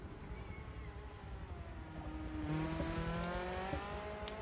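An Audi R8 race car with an FSI engine in Forza Motorsport 6 at Road America, heard as a distant engine tone rising and shifting pitch as it accelerates, faint and steady with no talking.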